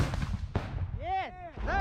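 Gunfire during a battle in Ukraine involving the 92nd Brigade gives a sharp, loud blast with a rumbling tail, and shouting voices rise between the shots.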